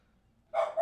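A household dog barks indoors, a loud burst starting partway through followed by a second bark close behind, after a near-silent start.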